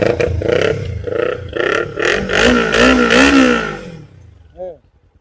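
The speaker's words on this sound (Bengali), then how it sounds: "ইঞ্জিনের সাউন্ড শুনলে মন খুশ হবে।" Sports bike engine revving up loudly and close, rising and falling throttle blips with a harsh rough growl that cuts off, followed by a brief short sound.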